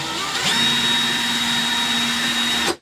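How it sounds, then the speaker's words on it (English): A power drill spinning a cotton swab to clean holes in drum hardware whirs at a steady high pitch for a couple of seconds, then cuts off abruptly; no voices. "I'm just using some Q-tips, and I got it chucked in the drill"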